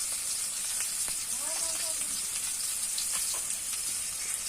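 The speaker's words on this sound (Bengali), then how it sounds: "এই যে আমি রুই মাছটা ভালোভাবে ভেজে নিচ্ছি" Rohu fish fries in hot oil, giving a continuous bright crackling sizzle with small pops, close and steady, while a voice briefly sounds faintly underneath.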